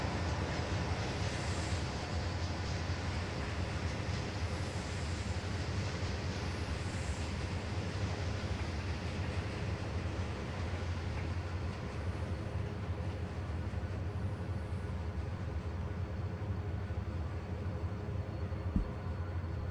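A steady, dense rail rumble continues without a break for the whole stretch, with no voices, as a passenger train runs on the line in the Trainz railway simulator.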